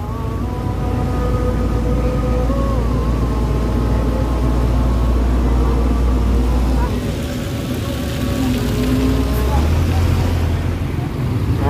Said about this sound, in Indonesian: mesin sedotnya kapasitasnya sangat besar sekali